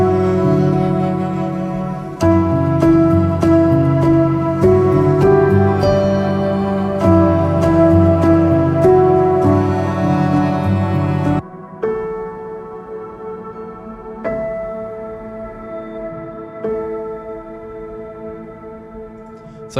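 Glessier keys virtual instrument on a soft setting plays gentle, sustained chords with long reverb tails, shifting to a thinner, sparser passage midway with soft repeated notes; no voices.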